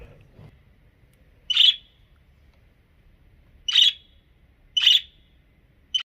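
Pet birds on a rooftop give four loud, sharp calls at irregular intervals, each a brief burst standing out over quiet background.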